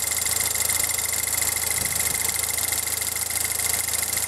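An engine runs steadily during a test with an inexpensive eBay RPM counter, its pulley spinning faster than the crankshaft; a constant mid-pitched hum with a high whine, close and even, with no talk.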